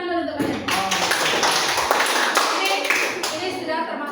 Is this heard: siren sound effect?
no